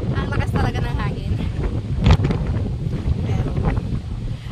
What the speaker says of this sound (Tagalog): Ang hirap naman kasi ang lakas talaga ng hangin.